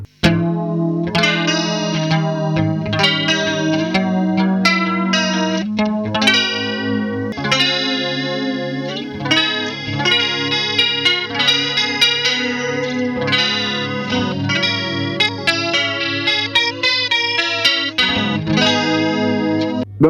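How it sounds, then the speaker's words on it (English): Electric guitar played through an amp with a Boss Super Chorus pedal, a shimmering chorused tone over a steady run of strummed chords and melodic notes, loud and continuous with no talk. "I'm going to play the same guitar through the same amp, but with a Boss Super Chorus pedal in place of the Microverb"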